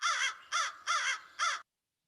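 A crow gives four loud, harsh caws in an even rhythm, close and clear, with silence afterward.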